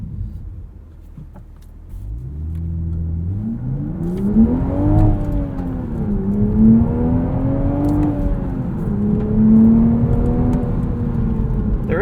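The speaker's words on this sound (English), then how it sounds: "Let's do a little acceleration here." A 2023 Toyota GR Supra 3.0 with a manual gearbox pulls hard from inside the cabin, its engine note climbing steadily through the revs, dropping briefly at a shift, then rising again, loud and continuous.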